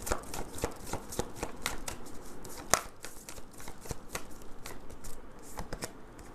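Tarot cards are shuffled by hand in quick, rhythmic riffles and taps, a run of crisp close slaps with one sharper snap midway, faint and without speech.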